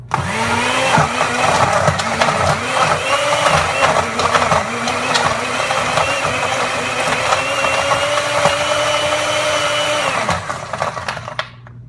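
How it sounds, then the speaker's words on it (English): A blender whirs loudly and continuously, its motor pitch dipping and surging as contents churn, then cutting off near the end. "we start the blender, and it's really loud"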